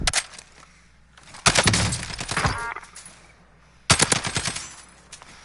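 M4 assault rifle fire in the shooter game Warzone comes in two loud bursts of rapid automatic shots, the first longer and ragged, the second shorter, over a low game ambience.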